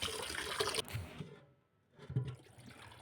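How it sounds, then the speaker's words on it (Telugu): A glass of rice is rinsed in water in a vessel, with close splashing and swishing, a short quiet pause, then another burst of sloshing. "ఒక గ్లాస్ బియ్యం తీసుకొని బియ్యాన్ని ఒక 2 సార్లు మంచిగా"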